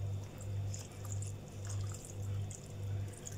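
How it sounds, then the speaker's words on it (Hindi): Water poured into a cooking pot of mutton keema and chana dal, a soft continuous splash over a low pulsing hum, close and fairly quiet, with no voices. "अब इसमें पानी ऐड करेंगे।"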